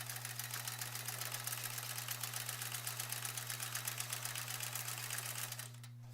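A domestic sewing machine runs steadily for free motion quilting on a 12-inch sampler block, a fast, even mechanical chatter with a low motor hum that stops abruptly near the end, leaving only the hum.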